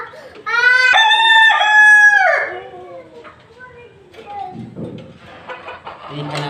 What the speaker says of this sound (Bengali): এইখানে আছে আমার দেশি মুরগি,